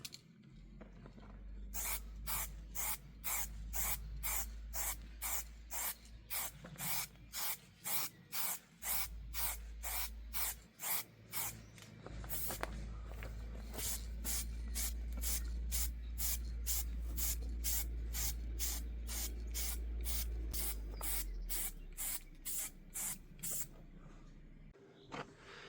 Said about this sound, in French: après avoir passé la bombe Montana pailletée